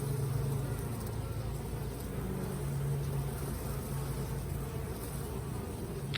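Honeybees buzz steadily around a hive, a dense, continuous drone of many insects heard close up and fairly soft, with no one speaking.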